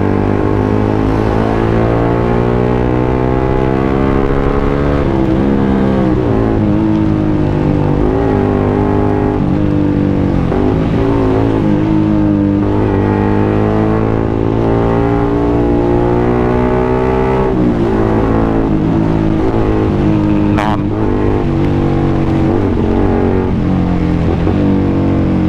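Yamaha M-Slaz motorcycle riding through a flooded street, its engine droning steadily and loudly for the whole stretch with small rises and falls in pitch, no voices.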